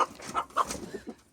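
Adler chickens kept at home clucking close by, a few short, choppy clucks and calls in quick succession with brief pauses between them.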